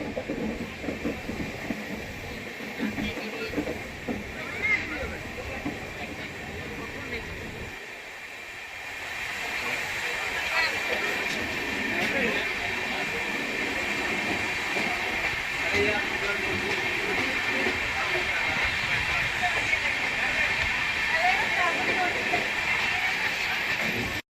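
The Amrit Bharat Express on its inaugural run passes the Howrah Dhanbad Express, a sustained rumble and rattling clatter of rail cars that briefly dips, then continues steadily, with voices over it.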